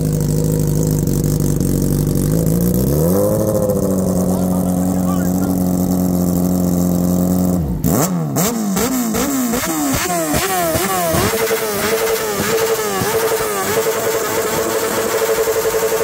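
A BMW S1000RR sport motorcycle engine starts up and idles loudly, then revs several times in quick bursts through a loud, raspy aftermarket exhaust.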